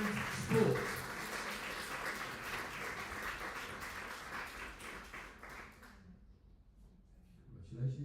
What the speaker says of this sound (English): Can I have a round of applause, please?